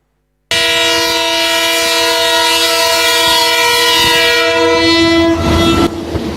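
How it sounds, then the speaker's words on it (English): A train rolls on steel rails in Ghana and sounds a loud, deep horn in one long sustained blast lasting several seconds over a steady rumble, the horn shifting pitch slightly near the end. "The rumble of wheels on steel and the deep blast of its horn evokes memories of Ghana's railway heyday in the 1970s and 80s"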